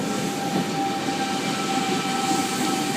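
A Sydney Trains V set departs platform 5 at Strathfield station on a rainy day, a steady loud rumble and hum of the moving train close by with faint tonal whine, no voices.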